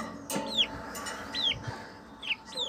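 Chickens cluck close by in a farmyard, several short calls repeating at irregular intervals over a soft outdoor background.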